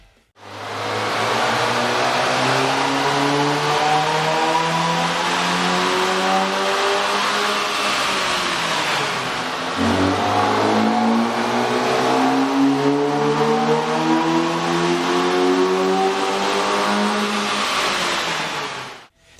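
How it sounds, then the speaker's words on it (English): A 2013 Dodge Dart 2.0L engine with an aftermarket air intake runs on a dyno, a loud continuous roar rising in pitch through two long revving pulls, dipping briefly between them, with no talk. "With the air intake installed, we ran the vehicle on the dyno to test the sound comparison versus the stock intake."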